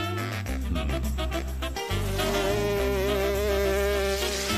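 An oversized cartoon mosquito buzzes loudly and steadily for several seconds, a continuous whining drone layered over a sustained musical or tonal backdrop, with no speech.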